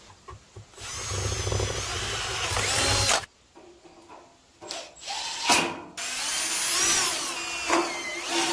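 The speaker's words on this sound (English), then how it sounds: "And I'll have to drill some holes to go into here and there." Power drill boring holes in metal during a welding cart build from an old grill, running in loud bursts of high-pitched whine with pauses and shifts in pitch, no talking.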